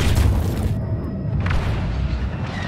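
A grenade blast in the Star Wars Battlefront 2 video game on the Crait map, a loud booming rumble that fills the clip with sustained low-end roar amid battle noise.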